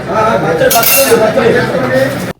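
Hot vegetable pulao being stirred in a pot with a metal spoon at a home Ayyappa puja, close clinks and scrapes of utensil against metal in a steady mixing rhythm, with faint voices in the background.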